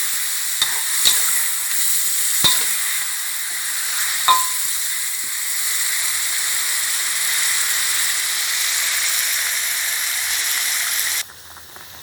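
Half a kilo of giant catfish pieces dropped into a hot pan for curry, giving a loud continuous sizzle and hiss with a few sharp clinks early on, then a sudden drop in level near the end.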